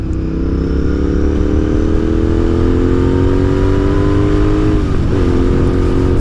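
A Royal Enfield race motorcycle with a small engine revs hard in 4th gear, its steady loud engine tone climbing in pitch, dipping briefly near the end before pulling again, close and continuous with no talk.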